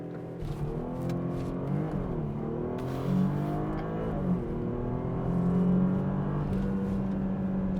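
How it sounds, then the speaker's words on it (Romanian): A Porsche Panamera pulls away in a hard launch, heard from inside as a muffled, rising engine drone that climbs steadily through several quick upshifts. "cred că e normal să începem cu un launch"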